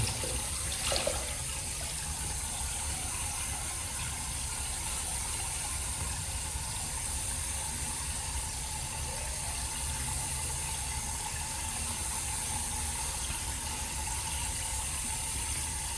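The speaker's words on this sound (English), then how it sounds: "Got some fresh hot water running here from my head shave" Hot water runs steadily from a tap for a head shave, a continuous hiss and splash lasting throughout with no voices.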